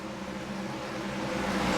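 A stock car engine idles steadily in the iRacing video game, a low continuous hum that swells slightly toward the end as it readies to pull away, heard alone without talk.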